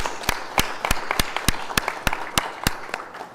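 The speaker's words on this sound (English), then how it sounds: "and a round of applause to the panelists" Audience applauding panelists at a business conclave, sharp clear claps in a fairly regular rhythm, close and loud, with a few quieter claps between them.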